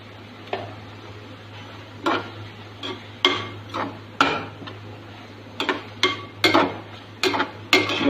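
A spoon stirs kohlrabi in a cooking pot with irregular clinks and scrapes against the metal, about a dozen close knocks at uneven intervals, with no talking.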